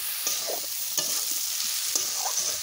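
Fried jackfruit pieces stirred into sizzling masala in a pan as a home-style kathal tarkari cooks, a steady close frying hiss with a few sharp scraping stirs and clinks.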